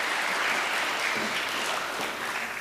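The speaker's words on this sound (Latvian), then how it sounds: "Saņemiet ar aplausiem Ines Čakstiņu." Applause from an audience welcoming a lecturer at a Nobel Prize talk event, dense steady clapping from a full room that fades slightly toward the end, with no voices over it.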